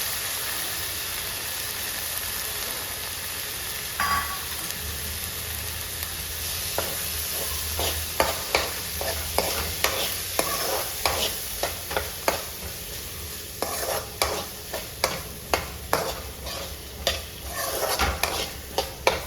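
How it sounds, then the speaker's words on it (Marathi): Shelled pavta beans are stirred and sautéed in masala paste over a raised flame, a steady frying sizzle under rhythmic spatula scrapes that quicken and repeat closely toward the end. "परतून घ्या छान. फ्लेम थोडी हाय करा, सगळं मिक्स करून घ्या."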